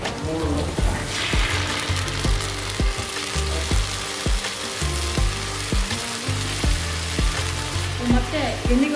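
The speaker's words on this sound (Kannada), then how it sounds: "ಇವಾಗ ಸೋಯಾ ಸಾಸ್ ಹಾಕ್ತೀನಿ" Soy sauce, three spoonfuls, hits a hot frying pan and sizzles in a steady dense hiss, with rhythmic spoon or utensil clinks against the pan running throughout, close and fairly loud.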